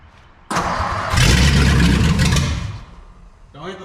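A truck engine cranks and catches with a loud, roaring start, runs hard for about two seconds, then eases toward a lower idle; a voice is faintly heard near the end.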